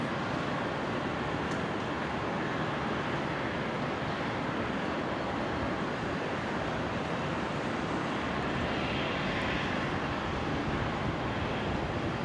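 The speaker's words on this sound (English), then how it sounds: "the YAM Dreaming liveried 787-9 Dreamliner" A Boeing 787-9 Dreamliner in YAM Dreaming livery lands on runway 01 left at Brisbane International Airport, a steady, loud broadband jet roar that holds evenly throughout with no voices.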